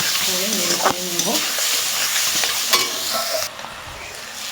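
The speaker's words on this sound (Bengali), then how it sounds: "তো ভালো করে লবণটাকে মিক্স করে নেড়ে চেড়ে নেব।" Olive pickle with salt is stirred in hot oil in a pan, a steady close sizzle with spoon scrapes and knocks; a faint voice briefly sounds near the start.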